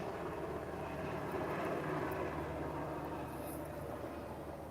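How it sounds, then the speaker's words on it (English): A helicopter passes overhead as a steady low rotor and engine rumble, loud and continuous throughout, with no speech. "there is a helicopter going"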